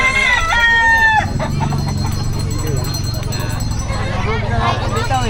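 Rooster crowing and chickens clucking at a busy pet market in Bocaue, with the crow rising clearly at the start and then sinking into loud crowd chatter and market noise.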